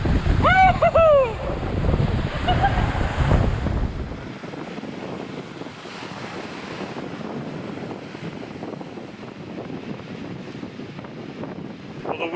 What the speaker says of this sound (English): the wind's really whipped up and the waves did too